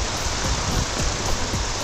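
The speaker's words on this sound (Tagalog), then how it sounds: "Inabot kami ng ulan dito sa bundok." Heavy, steady rain on a mountain roaring with broadband hiss, wind gusts blending in, close and loud throughout with no voices.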